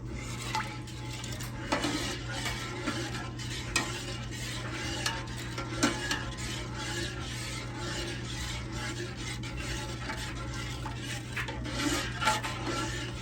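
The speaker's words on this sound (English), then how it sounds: "we're going to keep stirring this just like this until it comes to a full boil" A metal spoon scrapes and clinks steadily around a pan of redbud jelly, with a soft sizzle and low hum underneath throughout.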